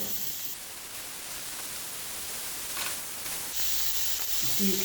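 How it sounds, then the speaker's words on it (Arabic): Merguez sausage sizzling in a well-heated frying pan, a continuous hissing crackle close by that shifts and swells slightly partway through, with no one speaking. "عندي هنا المقله سخنت مليح، نديروا المرقاز يطيب"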